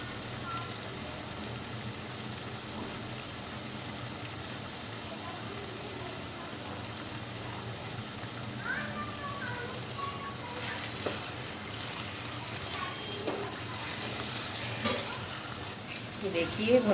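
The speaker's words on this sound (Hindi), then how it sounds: "अब मैं इसको भून लेती हूँ" A potato, peas and carrot sabzi fries in a pan. It gives a steady, even sizzle with light crackles and stirring scrapes near the end, and a faint voice sits under it.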